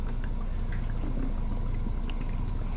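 Fuel mix poured into a fuel tank runs in a steady, close, continuous gurgling stream with no pauses, and no voices over it.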